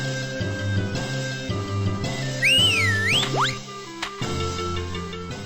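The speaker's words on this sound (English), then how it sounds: "You just gotta whistle at him." Whistling in the video game Moop & Dreadly, a few sliding tonal whistle notes rising and falling over steady game music, brief and clear with no talk.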